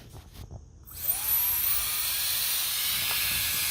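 A cordless ANABOX electric air duster with a brushless motor spins up, its whine rising in pitch, then settling into a steady high-pitched rushing hiss of air, close and fairly loud.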